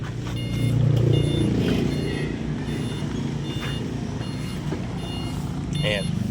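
An electric bike backs up, giving off a few high reversing beeps near the end over a low vehicle hum, while people talk nearby.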